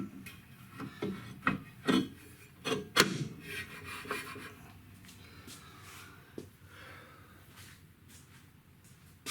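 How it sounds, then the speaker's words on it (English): A brake rotor is fitted back onto a 2004 Mitsubishi Eclipse GTS Spyder, with scattered metallic scrapes, knocks and rubbing clunks at uneven intervals. The busiest burst comes early and quieter handling follows. "Time to put our rotor back on"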